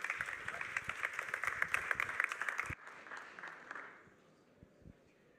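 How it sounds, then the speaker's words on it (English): A conference audience claps and cheers loudly for a few seconds as a speaker is introduced, then the applause cuts off and only a few scattered claps remain. "Please give him a big round of applause."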